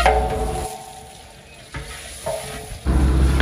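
Chopped tomatoes hit a pan of golden fried onions, setting off a loud, hissing sizzle that dips briefly, then surges again twice as more tomato goes in and is stirred.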